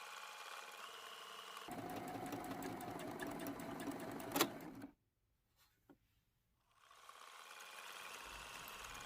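A sewing machine stitching raw edge applique on a quilt block, a steady, fast mechanical whir that runs for a few seconds, stops with a brief silence and a click, then starts up again.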